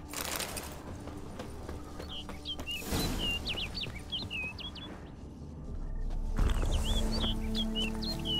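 A small bird chirps in quick twittering phrases inside a forest in The Witcher 3: Blood and Wine, with two bursts of calls heard clearly over a steady ambient bed of game music and forest noise.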